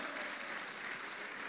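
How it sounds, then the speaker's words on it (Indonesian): A church congregation applauds, its clapping a continuous, fairly faint wash of many hands that holds even from start to end without any speech. "Tepuk tangan bagi Allah kita."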